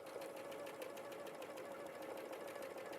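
A sewing machine runs steadily, stitching a quarter-inch seam with a fast, even mechanical whir and a rapid needle rhythm, close and continuous throughout.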